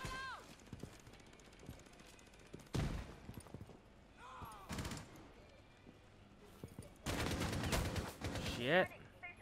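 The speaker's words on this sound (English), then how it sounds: "I'm taking some heavy fire." Heavy gunfire in Rainbow Six Siege: bursts of rapid shots at a moderate distance, two dense volleys with quieter single cracks between them.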